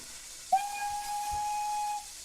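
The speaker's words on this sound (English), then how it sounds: "It definitely sounds like a British steam whistle" A British steam locomotive whistle in the RO-Scale Sandbox video game gives one sustained, steady blast of about a second and a half over a soft background hiss, with no talk.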